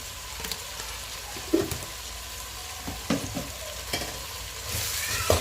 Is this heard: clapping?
no